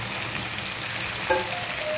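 Mutton with raw papaya fries in a pan with a steady, close hissing sizzle, broken by one brief metallic clink partway through and a faint ringing tone after it, with no talk.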